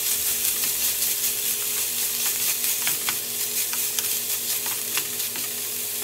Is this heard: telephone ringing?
no